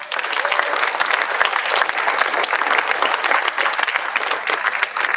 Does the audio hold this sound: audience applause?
yes